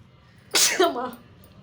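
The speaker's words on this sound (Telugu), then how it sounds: "అందుకని తుమ్ములు వచ్చేస్తున్నాయి" One sharp, close sneeze bursting out after a quiet moment, followed by a brief voiced trailing sound.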